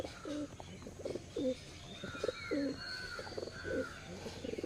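Soft, throaty cooing of Punjabi high-flyer pigeons repeats in short phrases, with faint chirps from other birds in the background.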